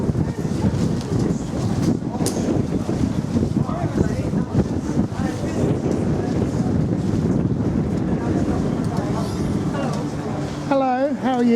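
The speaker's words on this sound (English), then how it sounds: "It's so windy." Gusty wind batters the microphone at an outdoor street art market in Maidenhead in December, a loud, continuous buffeting roar with people talking underneath it throughout.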